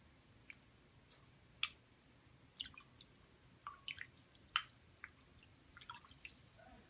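A hand moves slowly in a bowl of water, giving quiet, scattered drips and small splashes at an irregular pace, close by and with no talking.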